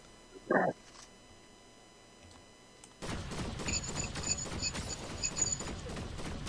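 Rapid gunfire rattles in Fortnite during a 1v2 match, starting abruptly after a brief click and quiet, then continuing as dense, loud overlapping bursts to the end.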